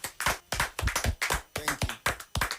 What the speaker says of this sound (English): give the Nigeria Info fans a big round of applause